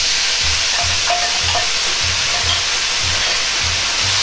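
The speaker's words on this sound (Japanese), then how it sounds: "焼けていたらタレを入れます。" Pork fillet steak cooks in a pan with spicy Chinese-style sauce, making a loud, steady sizzle and hiss with soft rhythmic stirring or scraping thumps underneath.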